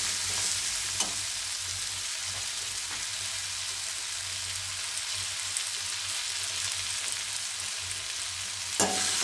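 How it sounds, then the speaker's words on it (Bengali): Potatoes and onions fry in a pan for Bengali alu piyazkoli chorchori, making a continuous close sizzle with occasional stirring scrapes and a couple of sharp utensil clicks, with no voices. "এবার এটা ভাজা ভাজা হয়ে গেছে"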